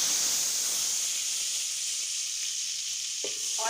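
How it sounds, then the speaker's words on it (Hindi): Garlic sizzling loudly in a spoonful of hot oil for chicken manchurian, a dense continuous hiss close up, with a small clink near the end. "लहसुन शामिल करते हैं"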